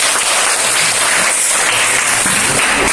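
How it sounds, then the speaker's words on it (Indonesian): A classroom group claps for group one after their presentation, with dense, steady applause filling the whole few seconds at close range. "Untuk itu berikan aplaus dulu untuk kelompok satu."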